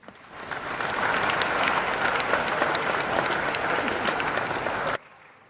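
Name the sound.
audience applauding the faculty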